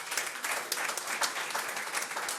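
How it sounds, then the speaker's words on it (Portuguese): Political gathering audience at a special plenary session gives a round of applause, a thick continuous roar of clapping from a sizable crowd, steady and fairly close. "Uma salva de palmas para eles."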